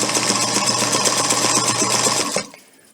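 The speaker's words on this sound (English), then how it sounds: "sew the X in there" A sewing machine stitching an X into fabric runs in a loud, close, rapid mechanical chatter with an even rhythm for over two seconds, then stops abruptly and leaves near silence.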